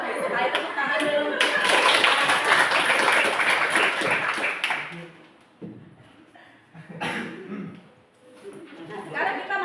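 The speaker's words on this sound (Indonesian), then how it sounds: "ayo tepuk tangan dulu" Indonesian schoolchildren clap together in a classroom during a language lesson, a dense, loud burst for several seconds that fades into scattered voices and a few stray claps.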